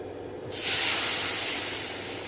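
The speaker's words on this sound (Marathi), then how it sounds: "आता आपण यावर थोडं पाणी शिंपडून घेऊया" Water sprinkled onto zunka, a gram-flour dish cooking in a pan, sets off a sudden loud burst of hissing steam that starts abruptly and then slowly fades.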